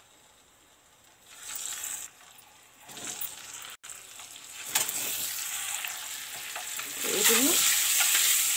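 Slit boiled eggs frying in oil in a pan for an egg tomato curry, a steady sizzle that swells louder as they are stirred and turned, with scraping and clinks of the spoon.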